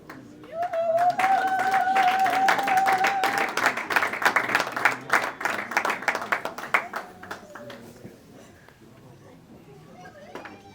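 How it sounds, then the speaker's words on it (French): Applause breaks out at a graduation ceremony, swelling into dense crowd clapping that tapers off into scattered claps, with a voice speaking over the start and near the end. "On va applaudir Kapuyaji Kamango"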